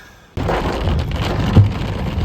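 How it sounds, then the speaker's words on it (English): Steady rain falls outside, a dense continuous hiss of drops on surfaces that starts abruptly and holds at an even, fairly loud level with no voices. "So we're just gonna listen to the rain for a minute, because it is beautiful."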